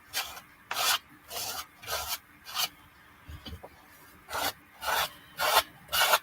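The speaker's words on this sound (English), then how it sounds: "Now I'm just dragging the gesso over the stenciled paint so it kind of runs" Rhythmic rasping strokes as a silicone brush drags gesso over stenciled paint, about ten short scrubbing passes at a steady, close pace, with a brief pause midway.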